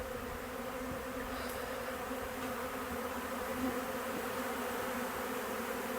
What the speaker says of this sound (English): I got a serious pile of bees over here still.